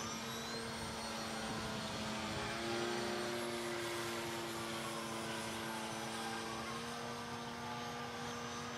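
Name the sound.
RC prototype model airplane flying and coming in to land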